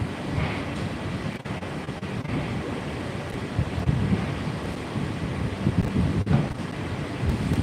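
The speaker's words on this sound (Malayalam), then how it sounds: "നല്ല കാറ്റ് ഇപ്പോൾ കാറ്റടിക്കുന്നു" Wind rushes in a hot, breezy spot, a steady blustery roar buffeting the microphone with uneven gusts and no voices.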